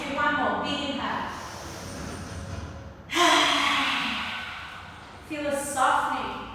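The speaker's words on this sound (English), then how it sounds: "Big breath in, feel your lungs fill, stick out the tongue." Deep yoga breaths during a chakra class: a long drawn inhale, then a forceful open-mouthed exhale with the tongue out, followed by another big rushing breath, close and fairly loud.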